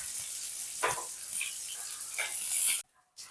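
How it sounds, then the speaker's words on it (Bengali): Pumpkin leaf fritters in gram flour batter fry in oil, a soft steady sizzle with a few brief bursts before cutting out near the end, with no talking. "এই বড়াগুলো আমার ভাজা হয়ে গেছে"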